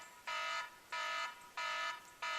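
A phone rings with an incoming call, sounding four evenly spaced electronic tone bursts, each about a third of a second long, steady and moderately close.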